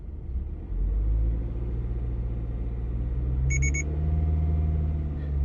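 Rev-limit warning beep in a 2024 Toyota GR86 Trueno Edition set to 2,000 RPM: a quick triple chirp sounds over the car's steady idling engine rumble as the revs rise, close and clear inside the cabin.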